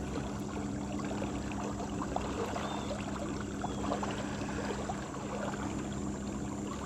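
A 12 volt electric trolling motor runs at full speed on a small boat, giving a low steady hum beneath constant water churning and splashing, close and unbroken throughout.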